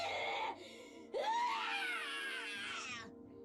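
A woman screams in pain, starting with a strained cry, then after a short break a long, loud, wailing shriek rises and slowly fades, set against a low background hum.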